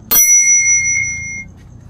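A single bright ding of a bicycle bell, sharp at the start and ringing out for over a second before fading.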